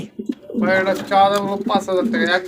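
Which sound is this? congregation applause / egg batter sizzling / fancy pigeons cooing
fancy pigeons cooing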